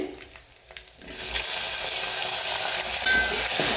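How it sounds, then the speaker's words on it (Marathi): Red chillies, tomato and coriander sizzle as they roast in a pan, starting after a quiet moment with a sudden burst of steady, loud frying hiss that carries on to the end. "छान असं भाजून घेऊया छान भाजले बघा लाल मिरची आता त्याच्यातच टाकूया टमाटर आणि कोथांबीर"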